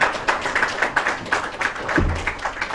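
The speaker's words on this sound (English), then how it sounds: "Please welcome him with a big round of applause." Brief scattered clapping from a small group, uneven taps rather than full applause, with a low thump near the end.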